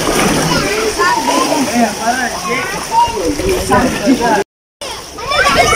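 Young people swim in the sea at Mombasa, sending up splashing and sloshing water nearby, continuous with busy surges, while voices talk and call over it; a brief dropout interrupts the sound.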